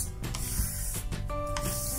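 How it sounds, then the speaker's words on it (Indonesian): Water spritzed from a small handheld sprayer onto the rubber door seal of an LG inverter refrigerator, several short close hissing bursts in quick succession. "Kalau susah, kita coba semprotkan air menggunakan ini."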